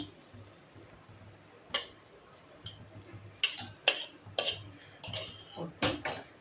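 A metal spoon or spatula stirs and scrapes chicken fried rice in a pan, giving a run of sharp clinks and taps at an uneven pace over a faint background hum.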